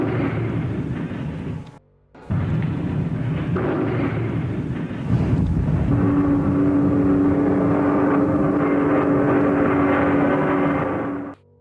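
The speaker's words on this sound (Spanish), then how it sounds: "Son los sonidos de la guerra, aviones y bombardeos" Wartime warplanes and bombing sound continuously, a loud droning roar with a short cut near the start, then a steady engine hum with a sustained tonal whine, alone without voices.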